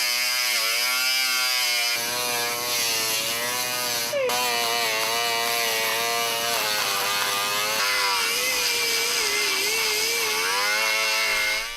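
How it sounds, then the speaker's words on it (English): A grinder works across the surface of a brake rotor, producing a loud, sustained, high-pitched whine with shifting tone as pressure and speed change, heard alone. "We do this using the grinder on the surface"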